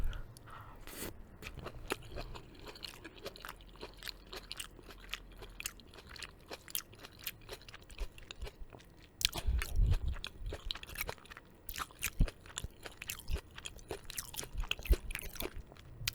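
Close-up chewing and biting of sausage, peppers and cabbage, with wet squelches, crunchy bites and soft scraping in irregular rhythm, intimate and quiet with no talking.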